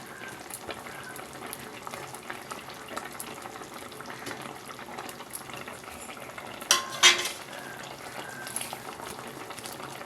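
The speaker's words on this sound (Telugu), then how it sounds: "ఈ పులుసులో చేప ముక్కల్ని ఉడకనిద్దాం అలాగే ఈ స్టేజ్లోనే మామిడికాయ ముక్కలు కూడా వేసేద్దాం" Fish pieces and raw mango simmering in a tamarind broth for a Telugu fish curry, a steady low bubbling boil with a brief louder burst of stirring or pot clatter near the end, no voices.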